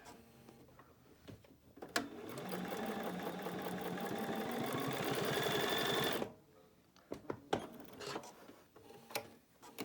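A sewing machine runs steadily for about four seconds, basting fabric down along the side of a homemade face mask, with quiet handling sounds of the cloth before and after the stitching.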